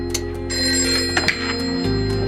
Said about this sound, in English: So by the time my phone rings, it's about 4:30.